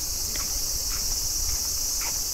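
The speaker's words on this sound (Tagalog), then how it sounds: "Naririnig yung mga huni ng mga kuliglig eh." Crickets chirp at night in a steady, high shimmering drone, with a few faint soft taps or steps underneath and no voices.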